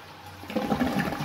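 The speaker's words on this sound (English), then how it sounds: "Flush it, and there we go, it will now flush straight away and fill up straight away." A toilet fitted with a new siphon and coupling kit flushes. After a brief quiet hiss, a close, loud rush of water surges and keeps gushing through to the end, with no voices.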